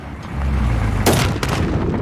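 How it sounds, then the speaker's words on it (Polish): A loud burst of explosion-like noise erupts amid a constant rumbling soundscape in Call of Duty: Modern Warfare, followed by a second sharp blast moments later. "Ewidentnie coś tam wybucha."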